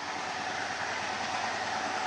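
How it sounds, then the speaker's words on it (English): A Badulla-bound train rolls along the line between Watawala and Galboda in Sri Lanka, running late after a derailment near Rozella and Hatton. Its steady, close rumble and wheel noise fill the whole stretch. "This is the Badula-bound train, but she's coming a little late because of the derailment between Rozella and Hatton."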